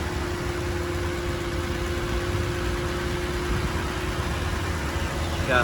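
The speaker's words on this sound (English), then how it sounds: "inside the engine bay, as you can hear, it's running and it's nice and tidy" A petrol engine in a 2016 Toyota LandCruiser 200 Series GXL idling smoothly and evenly up close, a steady hum with a faint whine running through it.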